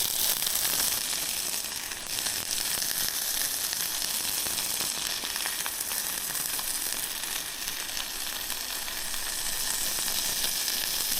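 Wagyu beef sizzling on an outdoor grill, a steady, close hiss of frying fat that holds at an even level for the whole stretch, with no talking.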